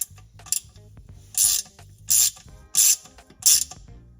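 A socket ratchet with a 5mm socket tightens bolts on a Jeep JKU manual transmission, giving four bursts of rapid clicking in even strokes, close and clear, between softer metallic handling noises.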